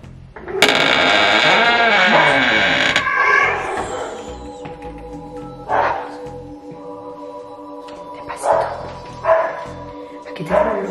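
A dog barks over and over in short, loud bursts, spaced out across the stretch, over a steady tonal background with someone talking.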